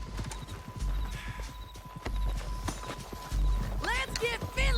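Horse hooves gallop in a rapid, close clip-clop in Red Dead Redemption 2, and a horse whinnies near the end. Voices shout now and then over the hoofbeats.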